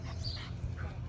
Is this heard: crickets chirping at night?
no